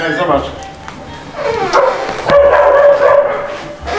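A dog in Egypt barks and yips repeatedly with whimpering cries, loud and close, mixed with people talking over it throughout.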